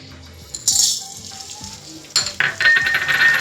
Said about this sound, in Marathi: आता आपण डिंक भाजून घेणार आहोत तुपामध्ये.